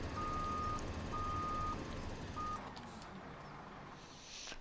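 In the Farming Simulator 17 game, a small truck reverses with a steady series of electronic beeps, evenly spaced and fairly clear over a constant engine drone that eases off toward the end.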